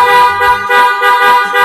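A big-bike motorcycle horn honks loudly and repeatedly in short pulsing bursts, close by, with a buzzy, harsh, rasping tone.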